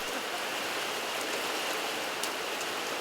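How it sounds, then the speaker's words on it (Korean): A sudden rain shower on a Himalayan mountainside gives a dense, steady hiss of falling rain with no voices and no letup. "갑작스런 소나기에 발이 묶였다."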